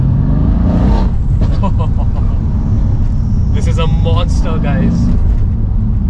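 Mercedes-AMG C63s accelerating hard up through first, second and third gears as the rear tires struggle for traction, a loud, close engine roar running throughout with someone talking over it.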